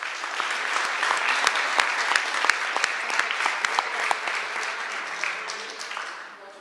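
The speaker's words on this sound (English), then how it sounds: "show them one more round of applause" Parents and guests at a school board meeting applaud students, giving a sustained round of scattered individual claps in a mid-sized room, steady and moderately loud before tapering off at the end.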